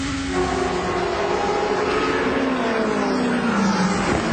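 GP2 race car engine heard onboard at Monza in 2008, a loud, steady high-pitched whine rising slightly in pitch as it accelerates, continuous and close.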